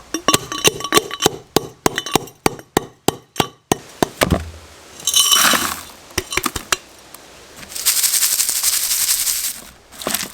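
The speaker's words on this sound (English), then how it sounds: "We are just going to give this a nice couple of whacks to break these bits down further" A hammer pounds gold ore rocks from an abandoned mine, breaking them into smaller bits. The blows come as a quick run of sharp, loud, rhythmic strikes, followed by scraping and rattling as the broken rock is shifted, with a short hissy rush near the end.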